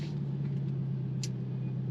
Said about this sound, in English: The downshifts, they sound phenomenal.